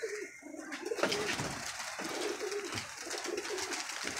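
A pigeon coos in soft, repeated throaty phrases close by, with chirps and scattered noise around it and a few faint bird calls mixed in.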